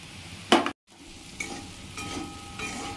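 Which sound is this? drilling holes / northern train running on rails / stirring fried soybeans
stirring fried soybeans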